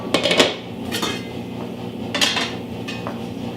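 A Curtis Stone cookware lid being handled, with a few sharp metallic clinks and knocks up close, separated by quieter gaps.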